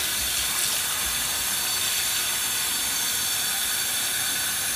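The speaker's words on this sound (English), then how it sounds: "we're gonna add some water to it" Water being poured into coconut milk in a pot for Jamaican-style steamed fish, a steady close hissing pour that runs unbroken throughout, with no talking.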